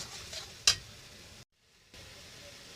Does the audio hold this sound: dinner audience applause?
no